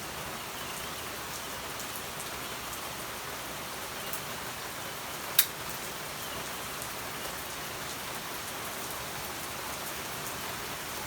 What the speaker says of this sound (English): Sounds of the rain.